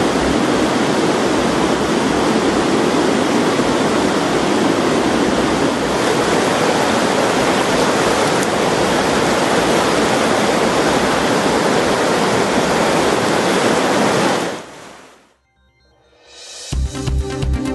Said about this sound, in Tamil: 2 ஆண்டுகளுக்கு பிறகு கும்பக்கரை அருவியில் வெள்ளப்பெருக்கு ஏற்பட்டுள்ளது